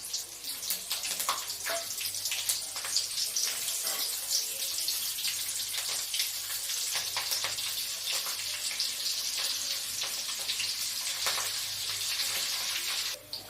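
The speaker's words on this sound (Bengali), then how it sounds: "এরপর কড়াইতে দেব কালো জিরে আর কাঁচা লঙ্কা।" Nigella seeds and green chillies frying in hot oil in a wok: a steady, close, bright sizzle with scattered crackles and pops running throughout, with no voices.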